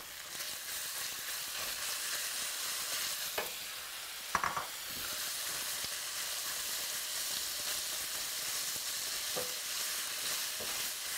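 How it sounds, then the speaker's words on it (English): Chicken pieces sizzling and frying in a pan with garlic, a steady close hiss broken by a few stirring clinks and scrapes, with no talking. "So garlic pieces are sizzling, and I'm going to now add chicken to the pan."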